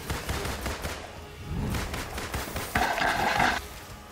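Gunfire in a Ms. Marvel mission video game: rapid bursts of shots layered over busy game noise, with a brighter crackling volley near the end, fairly loud and continuous.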